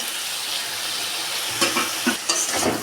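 Tomato and potatoes, already browned in mustard oil, are stirred and fried in a pan, giving a steady broad sizzle with scraping clatters near the end.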